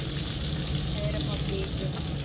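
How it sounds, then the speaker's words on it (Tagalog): Onions sizzle in a pan while cooking tomato with egg, a steady close frying hiss with faint crackles that continues evenly throughout. "lalagay ko na ang sibuyas"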